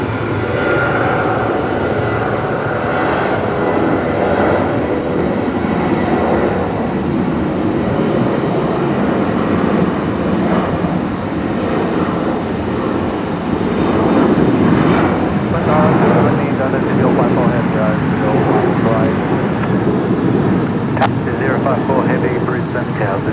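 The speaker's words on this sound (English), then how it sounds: "We've got the Emirates A380 heading out" An Emirates Airbus A380 departs runway 01 right at Brisbane Airport at twilight, its jet engines giving a broad, steady roar that stays at a constant level, with someone talking over it.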